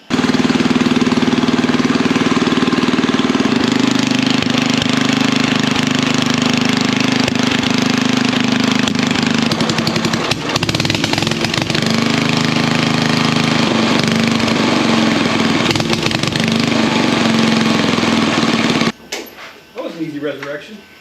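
Revived Craftsman lawn mower engine running loud and steady with a rough, knocking drone close by. Voices talk over it, and the engine cuts off near the end.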